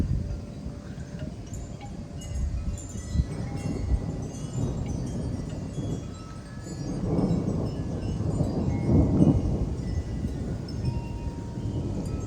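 A stationary thunderstorm with 30 mph wind gusts from the northeast rumbles with low, continuous thunder. Rain hiss and gusting wind noise build toward the end.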